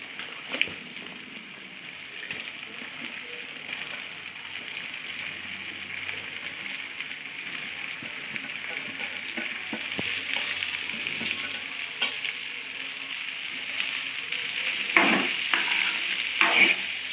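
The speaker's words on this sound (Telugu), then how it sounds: "మనం ఇలా తిప్పుతూ ఉండాలి లేకుంటే మాడిపోతుంది కదా ఇప్పుడు బెండకాయలు వేసుకుందాం" Okra fries in a pan with a continuous close crackling sizzle, stirred now and then with soft scrapes and a few sharper knocks, the hiss growing busier later on; no voices.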